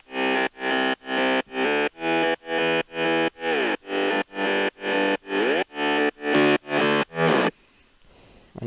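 Layered synth mid bass from a progressive house track, playing fifteen even, punchy sustained chord stabs in a steady rhythm, loud and alone, ending with a short quiet tail.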